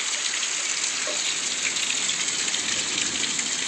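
Rain falls hard in a constant, hissing wash of noise with no break, close and fairly loud.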